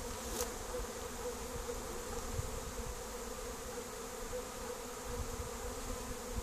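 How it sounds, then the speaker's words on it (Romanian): Honey bees swarm in a dense, steady buzzing hum at an apiary during a November cleansing flight on a mild day, many insects close by, with no talk. "aglomerație de albină."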